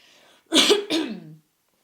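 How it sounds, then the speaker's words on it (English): A single close throat clearing, two short rough bursts in quick succession, then quiet. "Excuse me, I'm going to clear my throat."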